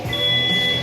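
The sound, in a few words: workout timer beeps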